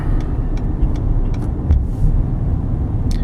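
A 2016 Ford F150 Platinum 4x4 pickup towing a trailer on the freeway gives a steady, loud road rumble and engine drone with faint intermittent ticks and no talking.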